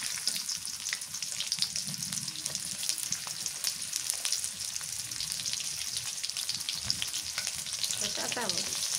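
Onions sizzle and crackle in hot oil for a fish curry, a close, steady frying hiss with occasional stirring scrapes, no voices over it.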